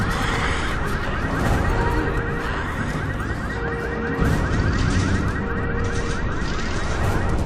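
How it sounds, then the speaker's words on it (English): In the Resident Evil 6 video game an alarm blares without a break. A dense, loud wash of noise with repeating tones carries through, and chaotic crashing sounds are layered underneath. "So of course the alarm attracts them to that area, so it's a good idea to sort of run past them."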